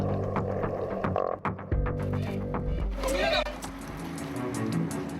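A croaker fish hauled up in a fishing net gives frog-like croaking calls, rapid repeated pulses close by amid boat and water noise, with a brief voice over the sound.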